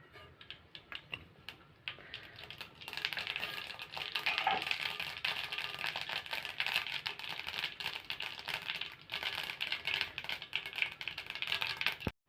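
Mustard seeds crackle and splutter in hot oil for a Tamil kovakkai mor kuzhambu, a dense, steady sputtering that swells after the first few seconds and continues without talk.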